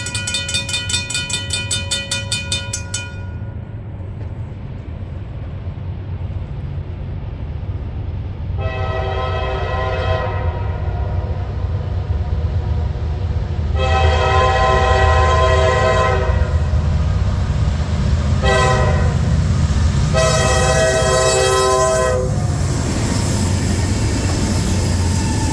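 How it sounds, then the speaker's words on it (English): A CSX manifest freight train, the 16R from Binghamton, New York to Ayer, Massachusetts, hauling trash containers and auto racks, rumbles past steadily while its horn sounds a short opening burst and then several long, loud blasts. "16R is Binghamton, New York to Ayer, Massachusetts manifest freight train."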